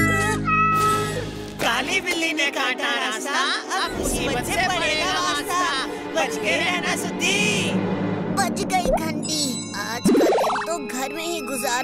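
Cartoon black cat meowing repeatedly in an animated children's show, the cries loud and near, mixed with voices talking and a bright chime near the end.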